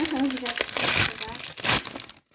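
Wrapping paper is torn and crinkled open in a loud, close burst of ripping and rustling that stops abruptly, with a voice heard briefly.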